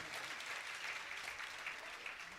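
Crowd at a Jain pichhika parivartan ceremony in Lalghati, Bhopal, gives a continuous wash of applause, quiet and somewhat distant, steady in level from start to finish.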